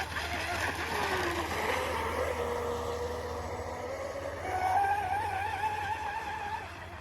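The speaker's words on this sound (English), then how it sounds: "Nailing the throttle sure pops the stern over." A BatBoat model boat runs on open water at three-quarter to full throttle, its motor whining steadily and rising in pitch as it swings through turns and passes close, loud and continuous throughout.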